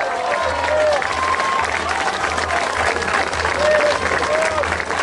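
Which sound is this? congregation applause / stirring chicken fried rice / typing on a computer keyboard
congregation applause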